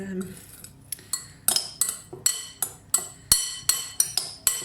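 Teaspoon stirring cooked potatoes in a dish, a run of about a dozen bright metallic clinks against the dish at a brisk, fairly even pace, close and clear with no talk.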